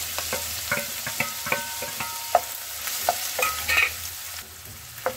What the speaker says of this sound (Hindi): और प्याज को हम अच्छे से भून लेंगे।